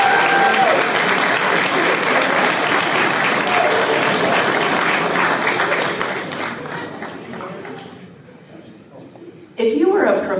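Audience applause fills a student awards ceremony at MSU, loud and sustained crowd clapping for about eight seconds before fading out, followed by a brief burst of voice at the end.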